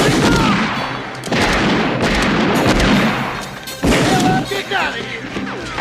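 Heavy gunfire in a Western action film shootout: loud, booming shots in bursts, with shouting voices mixed in among the blasts.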